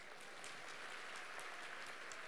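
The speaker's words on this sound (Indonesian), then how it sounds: "saya kasih kesempatan saudara tepuk tangan dulu deh" A church congregation claps at a Sunday service, giving a steady, fairly faint patter of many hands that stays even from start to finish with no voices.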